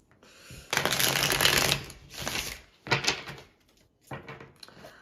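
Tarot cards shuffled by hand in several quick bursts, a riffling flutter followed by shorter shuffles separated by brief pauses, close and fairly quiet, no talking.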